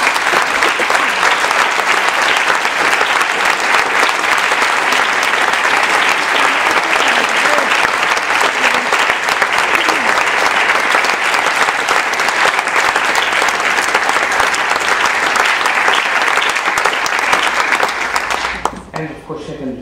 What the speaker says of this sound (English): So let's have a big applause for our AEC.